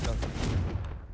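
A Confringo fire spell blasting in Hogwarts Legacy, a short, loud burst of booming, gunfire-like cracks that fades quickly within about a second.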